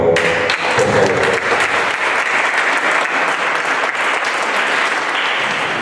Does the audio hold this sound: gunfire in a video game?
no